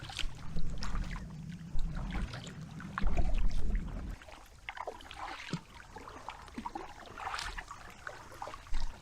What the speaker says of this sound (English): So how do you like the paddling, Luke?